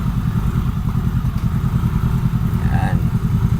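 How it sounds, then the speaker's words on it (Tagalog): Big motorcycles rumble steadily at close range, their engines loud and continuous throughout, with a faint clatter above and no clear pause. "Malalaki pong motor mga kababayan. Mga lalaking motor."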